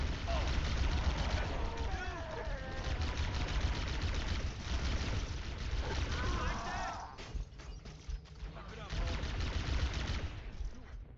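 Plasma pistol fire in a sci-fi video game, a busy stretch of repeated zapping shots mixed with other combat noise and someone talking over it, loud and continuous, thinning out briefly near the end.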